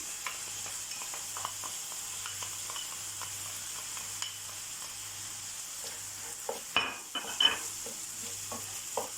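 Cooked kofta filling mixed with fried onions is stirred in a pan: a quiet, low sizzle with scattered scraping taps, growing into louder clattering strokes toward the end.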